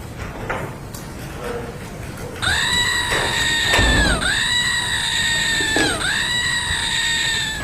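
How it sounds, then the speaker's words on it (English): A goat-scream sound effect plays three times in a row, each a loud, strained, wavering cry with bending pitch, following a few seconds of quieter background noise. "That deserves a triple goat scream."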